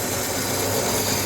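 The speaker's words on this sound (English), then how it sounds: "So, let's cut a bit of this 1-inch stainless. It's not the happiest stuff in the world to cut." One-inch stainless steel bar is cut with a power tool, giving a dense, steady, harsh cutting hiss that stays loud and even for the whole moment.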